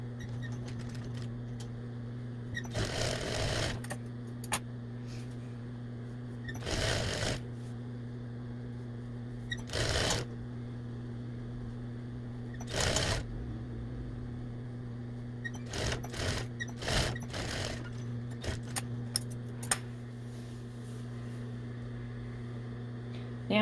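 A sewing machine stitches a ribbon into a child's apron hem in short, separate bursts of rapid mechanical clatter, with pauses between runs over a steady low hum.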